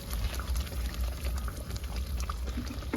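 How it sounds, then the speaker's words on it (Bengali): A little water is poured from a bowl into simmering chicken korma in a pot, giving a soft close splash and bubbling that runs briefly and quietly. "এবারে এখানে বাটি দিয়ে আমি একটু জল দেবো"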